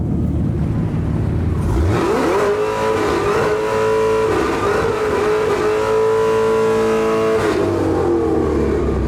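A car doing a burnout at the Beaulieu Supercar Weekend show, its engine roaring up into a sustained high-revving howl with rising and wavering pitch, loud and close for several seconds before easing off.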